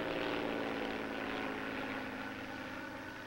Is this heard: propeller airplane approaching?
yes